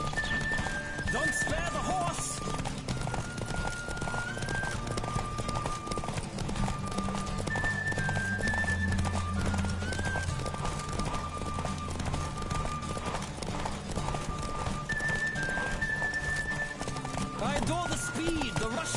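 A horse gallops at speed under a rider, its hooves clip-clopping in a steady rush, mixed with dense background noise and music-like tones throughout.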